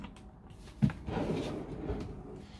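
A motorhome drawer thumps and slides close by, with a short knock followed by a rustling, scraping glide, fairly quiet and without talk.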